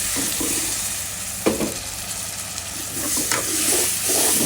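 Ginger-garlic paste with turmeric, chili, coriander and cumin sizzles steadily in a hot pan, with a few sharp scrapes and clicks of stirring cutting through the frying.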